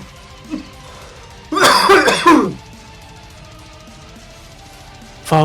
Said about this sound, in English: Follow the sound of coughing.